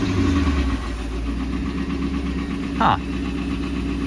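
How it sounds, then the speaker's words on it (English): A salvage Mustang engine idles low and rough, close by and steady, a continuous low rumble with a brief brighter burst near the end; one short spoken interjection over it. "now I've got a low idle, but kinda about to stall"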